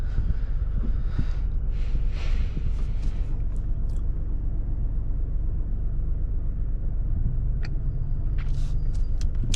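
Interior road noise in a 2022 Ford Escape S on the move: a steady low rumble of tyres and engine with faint clicks and thumps, continuous and fairly loud throughout.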